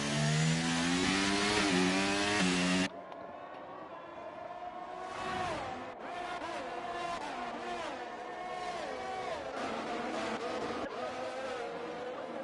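Race cars in a Monaco sim race sweep through the final corner, engines rising and falling in overlapping revving whines after a loud, close car passes at the start, with several cars following at a steady moderate distance.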